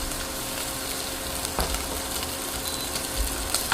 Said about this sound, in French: Je vais ajouter le beurre.